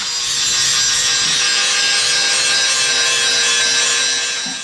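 Metal is cut for an upper radiator support on an LS swap build, a close, loud, continuous rasping saw-like grind that holds steady for several seconds before tapering off.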